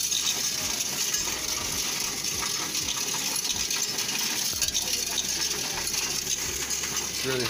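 Loose coins clatter continuously into a coin counting machine, a dense steady jingle and rattle with small metallic clinks running throughout, fairly close and with no talking.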